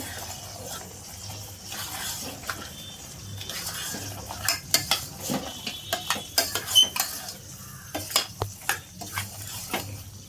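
A spoon stirs mutton masala into a sizzling dish in a metal pan. Soft scraping gives way to a rhythmic run of sharp clinks and knocks against the pot, all fairly close and with no one talking.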